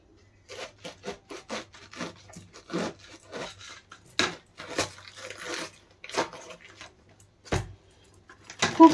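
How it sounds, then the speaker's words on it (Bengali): A knife slices through a tight, medium-sized head of cabbage in a series of crisp, close cuts, irregular in rhythm, with a louder thud near the end and no talking. "এখন আমি কপিটা কেটে নেব।"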